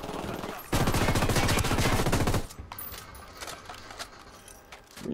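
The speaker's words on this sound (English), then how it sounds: "we're being shot at" Enemy gunfire in Ghost Recon Wildlands: a loud, fast automatic burst crackles for nearly two seconds, then gives way to scattered fainter shots and clatter in the background.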